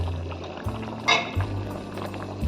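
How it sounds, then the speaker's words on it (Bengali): Chicken keema ghugni boiling in a pot, soft bubbling and liquid burbles with a brief louder splash partway through, close and fairly quiet. "দেখো আমাদের ঘুগনি টকবক করে ফুটছে"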